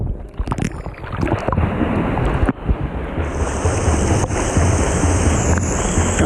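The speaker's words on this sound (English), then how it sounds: "make sure that your feet are on the surface, creating white water like this" A swimmer on a kickboard kicks with feet at the water's surface, churning up white water in a loud, continuous rushing splash heard up close with no talking.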